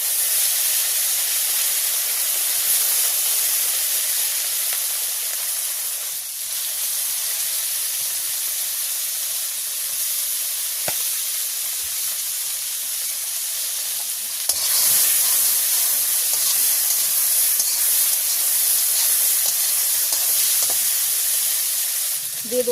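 Tomatoes tipped into hot oil with dried chilli and bay leaf in a village kitchen, giving a loud, steady sizzle and hiss that carries on for the whole stretch with only slight swells.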